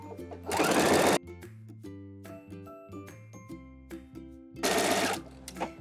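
A sewing machine stitches a t-shirt seam in two loud, fast bursts of rapid stitching, with quieter clicks and tinkling between them while the fabric is adjusted.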